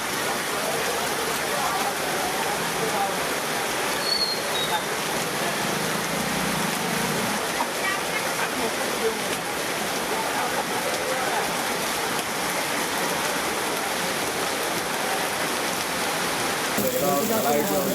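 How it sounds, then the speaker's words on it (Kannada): Heavy rain pouring onto the streets of Jamkhandi town, a dense, unbroken roar of downpour that holds steady and loud throughout. "ಜಮಖಂಡಿ ನಗರದಲ್ಲಿ ಸತತ 1 ಗಂಟೆ ಗುಡುಗು ಸಿಡಿಲಿನೊಂದಿಗೆ ಧಾರಾಕಾರ ಮಳೆಯಾಗಿದೆ"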